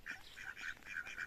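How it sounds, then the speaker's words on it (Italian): Mallard ducks quacking in a farmyard pen, a run of about six nasal calls in steady rhythm, close and moderately loud with no voices over them. "le nostre anatre germane. Eccole qua"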